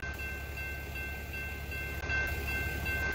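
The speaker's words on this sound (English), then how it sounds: "I don't know where the rest of the train is" A train rolling along railroad tracks, a close, steady low rumble with a faint metallic hum that holds evenly for a few seconds, with no one speaking.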